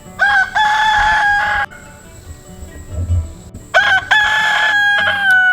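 Chickens on a backyard homestead, with two loud rooster crows separated by a quieter stretch of low clucking and a faint steady background tone.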